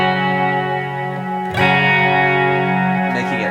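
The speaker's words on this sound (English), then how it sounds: "And you can crank the decay quite a bit on this reverb" A guitar chord rings through a Strymon BigSky plate reverb with the decay turned up long. A struck chord sustains into a thick, lingering wash, and a fresh strum lands midway and again near the end.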